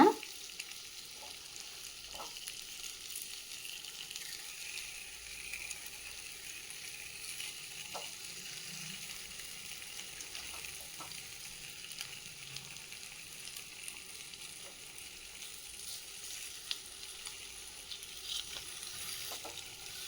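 Cut potatoes fry in a pan with a steady, quiet sizzle and crackle, with occasional soft stirring or pops and no voices.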